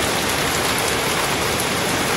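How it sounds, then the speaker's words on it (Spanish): Heavy rain pours steadily onto a surface outdoors, a dense, even hiss with no pauses and no voices, close and loud throughout. "Está lloviendo bien harto."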